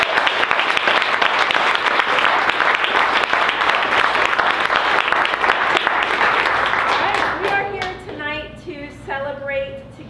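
Audience at a book launch in Malvern Books applauding a flutist, a loud dense burst of many hands for about seven seconds that fades out as a voice begins speaking.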